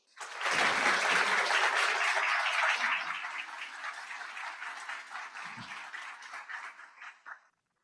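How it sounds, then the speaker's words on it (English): A convocation audience applauds in a large hall, a dense, steady wash of many hands clapping that swells loud at first, then gradually thins and fades out. "Please give them an applause."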